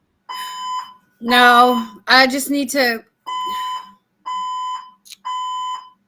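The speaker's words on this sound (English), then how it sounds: "a fire alarm going off, and there's nothing I can do about it" A fire alarm sounds in repeated steady electronic beep bursts, each tone lasting under a second with short gaps, while a person talks between and over the alarm tones.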